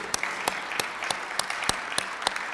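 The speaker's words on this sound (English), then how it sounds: "stand up and we're going to clap for you again" Clapping for a Rotary club member during a club meeting: a few hands beat in an even, sparse rhythm at moderate loudness, with no voices over it.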